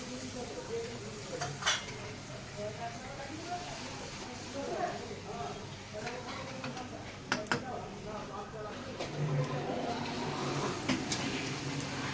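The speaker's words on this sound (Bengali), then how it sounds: "লুচি ভাজছি" Luchi frying in hot oil, a faint sizzle with occasional clinks of utensils against a pan, under a person talking nearby.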